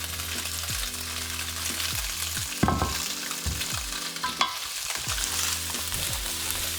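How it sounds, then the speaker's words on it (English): Tofu and carrots fry in a hot pan with a steady, close sizzle, broken by a few brief scrapes and stirring clatters. "take that tofu and just slide it on in there, making sure that it's frying away"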